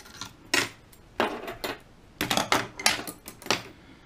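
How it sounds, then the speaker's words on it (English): Scissors snipping excess paracord close during bullwhip braiding, heard as a quiet series of short, sharp cutting clicks and rustles at irregular intervals, near and alone. "so I'm going to cut that off close"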